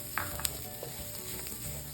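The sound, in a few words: coriander and turmeric sautéing in a pan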